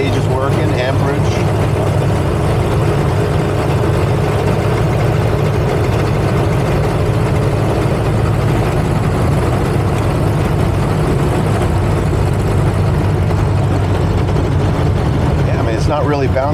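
A 1930 Ford Model A Tudor Sedan on the move, its low engine drone steady and close from inside the cabin while people talk over it throughout.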